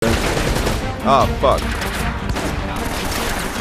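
Gunshots in Uncharted: Drake's Fortune, a steady stream of loud gunfire and impacts throughout, with a man swearing briefly over it.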